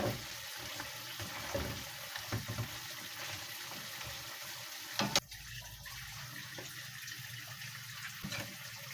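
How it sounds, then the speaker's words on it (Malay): Water poured into a pan of fried chicken in sambal gives a soft close pouring and sizzling wash, with a sharp clatter about midway and no talk. "Kalau nak berkuah sikit boleh tambah air ya."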